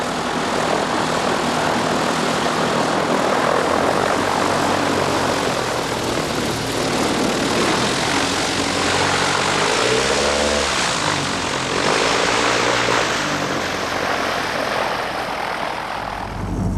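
A light aircraft drones steadily in flight, its propeller engine filling the cabin with a loud, continuous roar that wavers slightly in pitch now and then.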